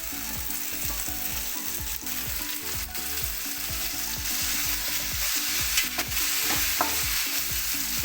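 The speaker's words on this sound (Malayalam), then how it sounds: "ഇനി നമുക്കിതിലേക്ക് തക്കാളിയും കറിവേപ്പിലയും കൂടി ചേർത്ത് കൊടുക്കാം" Squid roast frying with tomato and curry leaves in a pan, giving a loud, continuous sizzle with frequent quick stirring scrapes throughout.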